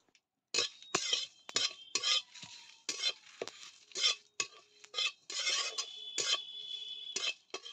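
A spatula scrapes and stirs bay leaf, dried chilli and whole cumin dry-roasting in a hot wok, in short, uneven bursts of rasping strokes with faint clinks, close and alone.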